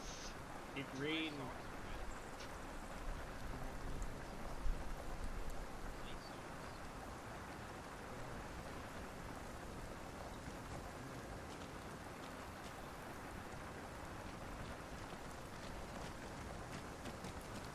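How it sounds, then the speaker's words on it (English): Steady rain falling in a video game, with gunfire and a mortar thud in the first few seconds; voices talk over a constant, even rain hiss that lasts the whole clip. "It's raining."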